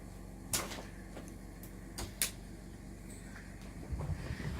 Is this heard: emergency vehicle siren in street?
no